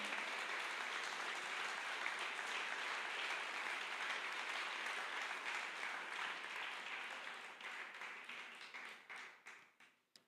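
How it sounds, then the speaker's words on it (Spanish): Sustained applause from a church congregation during a Spanish-language sermon, a dense, steady wash of clapping that holds for most of the stretch before thinning into scattered claps and fading out. "dele el aplauso al Señor"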